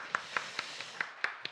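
A lone person claps slowly and steadily at a firefighter interview-class orientation, about seven crisp, evenly spaced hand claps, fairly quiet and close.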